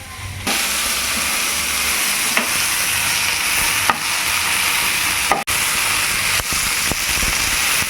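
Okra sizzles steadily in a hot pan, a constant frying hiss with occasional soft clicks from stirring.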